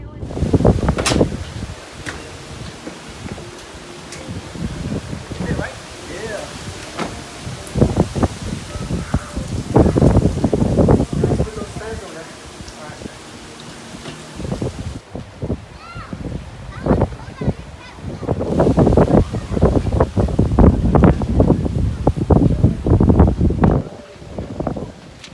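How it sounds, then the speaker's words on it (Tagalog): Dry, gusty California wind buffets the microphone outdoors in loud, uneven surges that rise and fall over about twenty-five seconds, with voices and rustling underneath. "Windy out here."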